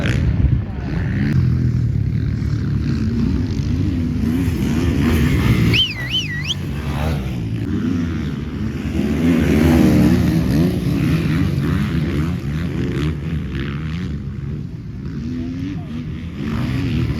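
Motocross motorcycles race at a retro motocross event, including a Honda 450 and a 250, their engines droning and revving loudly and continuously up close while a commentator talks over them and a whistle sounds briefly.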